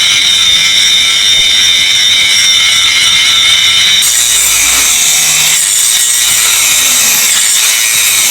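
Fabricated roll cage parts on a Sixsquatch being cut off with a power tool, a loud steady abrasive grinding that runs the whole time and shifts to a harsher, brighter tone partway through, with no voices.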